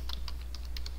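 Quick, light keystrokes on a computer keyboard while code is being written, several close clicks in a brief burst over a steady low hum.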